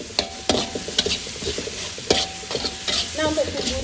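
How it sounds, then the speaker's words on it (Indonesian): Spice paste sautéing in a pan for young jackfruit vegetable stew, a continuous sizzle broken by repeated sharp spatula clacks and scrapes against the pan at an uneven rhythm, close and fairly loud, with no voices. "untuk bumbunya itu harus ditumis sampai benar-benar matang ya"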